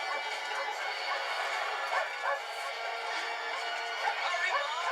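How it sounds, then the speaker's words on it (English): Big dogs barking and yipping in a film scene, a steady run of overlapping barks at moderate distance with some whimpering, no clear speech over them. "And look, big dogs."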